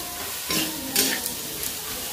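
Spice masala with yellow mustard paste, chili, coriander and turmeric powders sizzles in a pan, a steady crackling fry broken by a few louder bursts as it is stirred.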